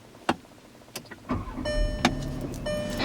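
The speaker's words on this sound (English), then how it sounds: "the Atlas actually has the push to start as well, so I'm going to go ahead and turn her on" A Volkswagen Atlas is started by push button: a few soft clicks come first, then the engine catches with a low rumble and settles into a steady idle while electronic chime tones ring out.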